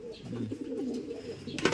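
A pigeon coos softly and repeatedly nearby, a low rolling call, with a brief rustle near the end.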